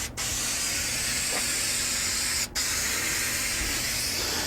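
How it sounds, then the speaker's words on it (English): Spray adhesive hisses steadily from an aerosol can onto cork, a continuous close, loud spray broken by two brief pauses. "put it on as if you were painting that cork with a spray can"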